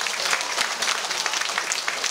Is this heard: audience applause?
yes